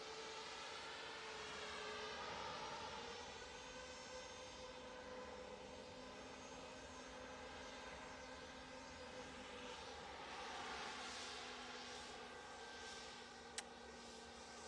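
A Ryanair passenger jet at Manchester Airport, a sustained roar of jet engines with a whining tone at moderate distance, steady throughout with no talking.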